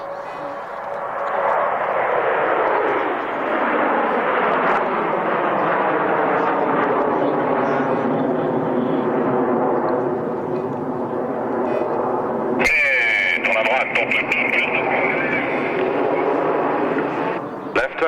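Airshow jets flying in Concorde formation with colored smoke roar past, the sound swelling and sweeping down as they go by, then a loud, rumbling burst, with a commentator's voice over the noise.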